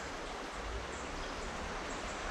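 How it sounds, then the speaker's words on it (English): Babbling brook in the Smoky Mountains, a steady broadband rush and gurgle of flowing water, continuous and close, with no voices. "is a babbling brook."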